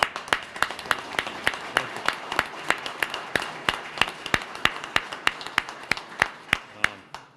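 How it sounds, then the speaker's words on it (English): Applause for a fire chief at a fire department's Heavy Rescue 1 in-service ceremony: a steady run of sharp, evenly spaced claps, about twenty in a row, fairly close and clear with no talk over them. "A big round of applause for Chief Lynch."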